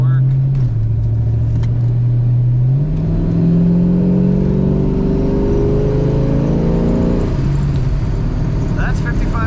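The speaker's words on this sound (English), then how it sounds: "This car has an excellent exhaust sound." A 1968 Plymouth Barracuda 2-door hardtop accelerating, its exhaust note rising steadily and close by, with a brief dip mid-pull before climbing again, as a voice talks over the engine.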